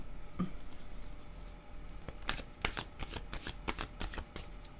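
Tarot cards being shuffled by hand, a quiet, close sequence of soft riffling flicks and slaps that grows busier toward the end, with no speech over it.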